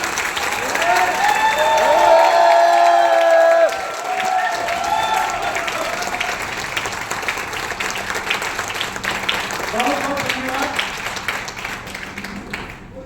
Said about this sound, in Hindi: मैं चाहूंगा सभी लोग एक बार जोरदार तालियों से